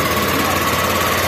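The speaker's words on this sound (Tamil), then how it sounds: "ஒர்க் ஆகுதுன்னு ஸ்டார்ட் பண்ணி பார்த்துடலாம்" A TVS Scooty Pep+ BS6 scooter engine runs after a throttle cable replacement, a steady close buzzing drone with constant loudness throughout.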